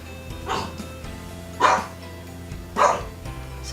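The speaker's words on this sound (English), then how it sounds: "Sorry about the dog." A dog barks indoors in the background, three separate sharp barks spaced roughly a second apart, moderately loud over a quiet room with a faint hum.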